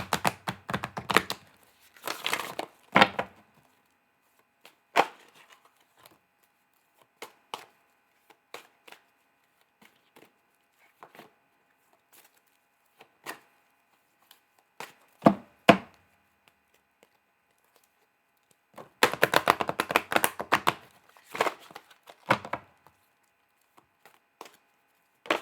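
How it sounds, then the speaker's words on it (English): Playing cards riffled and shuffled during a tarot-style reading, heard as two dense crackling bursts near the start and again toward the end, with sparse soft taps and card flicks in the quiet between. "cards don't feel like they're done being shuffled."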